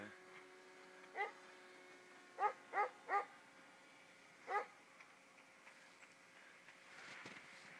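A dog barks in a few separate bursts, one then three close together then one more, somewhat distant against a quiet background.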